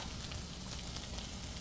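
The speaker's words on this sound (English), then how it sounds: "saute that up. Toss everything around. I'm gonna have you deglaze with a little bit of vinegar" Spinach sautéing in a pan after a splash of vinegar, a steady close hiss and crackle of frying with no pauses.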